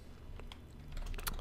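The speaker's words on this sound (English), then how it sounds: "typing in worm select" Computer keyboard typing while setting up a Worms Armageddon game, a short run of quick clicky keystrokes close up and growing busier toward the end.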